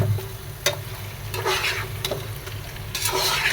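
Chicken, potato pieces and spices sizzle as they sauté dry in a pan, with a steady frying hiss broken by a few sharp scrape-and-stir clicks of a spoon, close and fairly loud.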